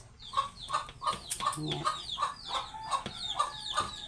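A pet hen clucks steadily and close by in a backyard garden, a regular series of short repeated clucks over faint outdoor background, with one brief spoken word.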